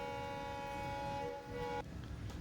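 A passenger train on the Shoranur–Nilambur railway line sounds a long steady horn blast that stops abruptly, with rumbling carriage noise underneath and continuing after.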